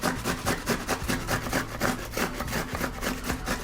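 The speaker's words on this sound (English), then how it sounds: "Grab your grater and grate all the tomatoes into that." Fresh tomatoes are rubbed across a grater in quick, regular rasping strokes, each one a short scratchy pass, heard close up for a few seconds. No voices.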